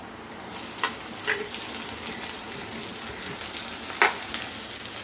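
Bitter gourd fries in a pan with onion that has already browned, giving a continuous hissing sizzle with a few brief clinks of a utensil against the pan.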